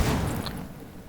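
Jackhammer grenade in Borderlands 3 going off in a dense, rumbling burst of overlapping explosions that fades over about a second.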